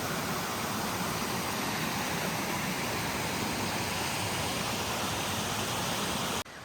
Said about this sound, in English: This is a beautiful creek. I love this conglomerate that it flows over.